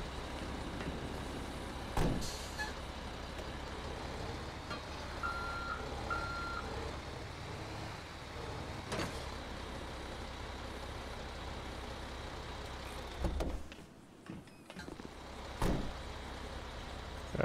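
Heavy duty wrecker tow truck in GTA 5 working its arm to tow a construction dump truck, with a steady engine rumble, repeated reversing beeps and a few sharp clunks and hisses.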